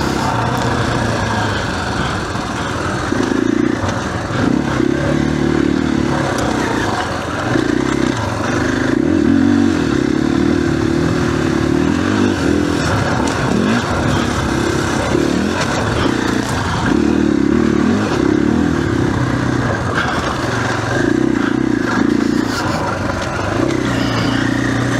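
A 2021 KTM 500 EXC-F dirt bike engine held near, running loud and steady with repeated rising revs, clattering mechanical noise throughout and no talking.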